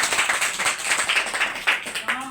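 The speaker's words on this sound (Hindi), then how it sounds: "एक बार जोरदार ताली आप सबके लिए, जोरदार।" Audience clapping at a business presentation, a brief burst of separate, fairly sparse claps in an irregular rhythm, close and moderately loud, with no speech over it.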